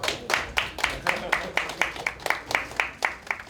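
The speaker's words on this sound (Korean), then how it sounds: "다시 한번 뜨거운 박수 부탁드립니다" Audience at a Democratic Party expanded executive meeting clapping in a rhythmic, evenly spaced pattern, moderately close, with faint voices underneath.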